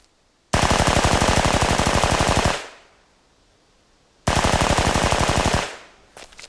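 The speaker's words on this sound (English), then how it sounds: "Now fire 10-second bursts." An anime machine gun fires two long sustained bursts, each a dense, loud, rapid rattle of shots lasting about two seconds, separated by a short quiet gap, with a faint trailing clatter at the end.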